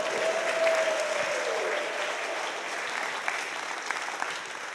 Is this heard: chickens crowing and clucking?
no